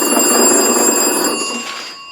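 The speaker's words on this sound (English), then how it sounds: "this was the original phone used in this mine in 1911. Oh. And it does still work" An original 1911 hand-crank mine telephone rings with a loud, steady metallic bell clatter for most of two seconds, then quickly fades out.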